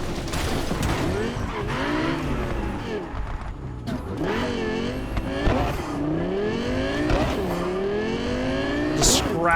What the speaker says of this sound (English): the sound of a car in a tunnel like that